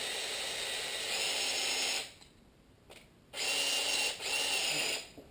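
A power drill spins a chimney sweep brush adapter for a Hearthstone Clydesdale stove, giving a high steady whir. It runs for two seconds, stops, then whirs again in two more close, fairly quiet bursts.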